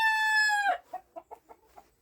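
A hen in a coop gives one long, drawn-out, tonal squawk, then several short clucks in an uneven run, close by and clear, with no voices over it.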